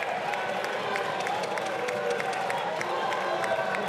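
Deputies applauding in the French National Assembly chamber, dense continuous clapping from a large seated crowd, steady and even throughout with no voices standing out.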